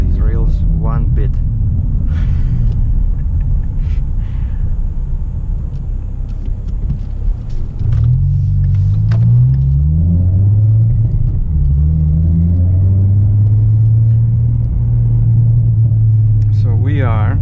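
A car drives over the streetcar rails on Spadina, giving a continuous low tire-and-road rumble while a person talks over it for most of the stretch.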